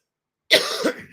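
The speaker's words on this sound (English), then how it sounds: "I'm just going to keep coughing." A single sharp cough bursts out after a moment of silence, followed by a short rasping second cough and a breathy tail, close to the listener.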